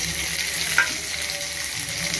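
Tomatoes sautéing in a pan for prawn thokku give a steady, close frying hiss with one brief clink of a spoon against the pan partway through, and no one speaks.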